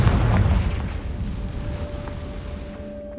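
The Confringo fire spell in the Hogwarts Legacy video game goes off as a loud, deep boom, and its rumble fades slowly into a faint steady ringing tone.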